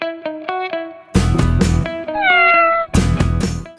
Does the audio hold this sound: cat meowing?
yes